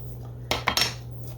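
A knife cutting through an avocado, a short close burst of soft scraping with a couple of light metallic clicks against a board, then quiet.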